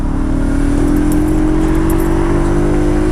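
Motorbike riding in traffic, a loud steady engine drone that rises slowly in pitch under heavy wind rush, close and continuous with no talking.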